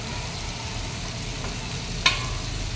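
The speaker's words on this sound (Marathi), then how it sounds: "हे छान असं त्याला परत परतून घ्यायचं." A spiced khichdi mixture with turmeric, red chilli powder and fresh coriander is stir-fried in a pan, giving a steady close sizzling hiss with one sharp scrape of the spoon near the end. No one speaks.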